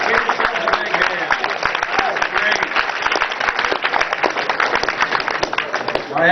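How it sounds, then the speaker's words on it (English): A roast audience claps for itself in a big, steady round of applause filling the room, with dense overlapping claps sustained throughout. "Give yourselves a big hand"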